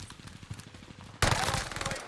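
Automatic gunfire in the video game Warzone, a steady rattling burst that suddenly grows much louder halfway through, with faint voices underneath.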